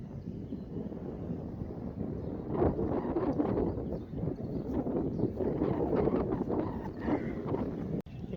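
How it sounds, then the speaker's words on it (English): Strong wind on a golf course buffets the microphone with a continuous loud, rough rumble that swells and eases for several seconds, no voices. "Serious wind in the face"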